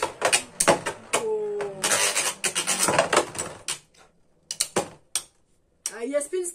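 Metal and Burst Beyblade spinning tops clashing in a two-level stadium, sharp repeated clacks and grinding scrapes in bursts, with brief gaps and a voice near the end.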